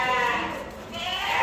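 A goat bleats at a goat farm among pregnant female goats, a wavering, drawn-out bleat that rises and falls over a second and a half, close and fairly loud, with another faint bleat or voice behind it.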